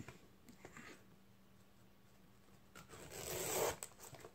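Gift ribbon being curled by pulling it between a scissor blade and a finger, a few faint rubbing scrapes that build into one longer, louder zipping swipe near the end in a quiet room.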